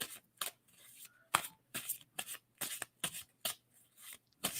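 Tarot cards are shuffled by hand, a quiet series of soft riffling and flicking bursts at irregular intervals, close but faint against a low steady hum.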